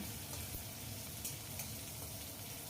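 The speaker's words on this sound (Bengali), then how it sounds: "একটা ছোট্ট পেঁয়াজ আমি কুচো করে নিয়েছি নিয়ে ওটা ভেজে নিচ্ছি হালকা করে ভাজবো" A small chopped onion frying lightly in a pan, giving a steady, soft sizzle that holds evenly throughout with a few faint stirring scrapes.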